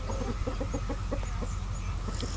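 Several chickens cluck close by in short repeated bursts on a rainy day, over a low steady rumble of background noise.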